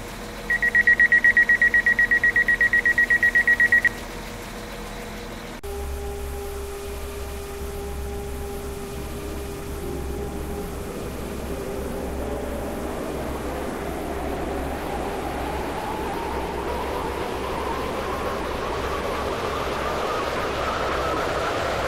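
A Class 195 train in the Roblox game Stepford County Railway: a brief chime, then a low rumble and a rising electric motor whine as the train pulls away and accelerates steadily.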